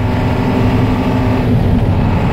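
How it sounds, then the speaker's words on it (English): A Blue Bird bus engine drones steadily while cruising in gear, a loud, close, low mechanical hum and rumble with no break and no talk over it. "as you see, we're cruising in fourth gear"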